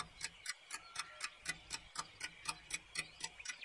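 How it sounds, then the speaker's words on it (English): An alarm clock ticking in a steady, even rhythm of about four sharp ticks per second, close and quiet, with nothing else heard. "My alarm clock is one of my favourite things. It makes a great ticking noise."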